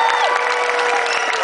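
A large concert crowd cheers and applauds loudly and continuously, a dense wash of clapping, shouts and whoops filling a big outdoor venue.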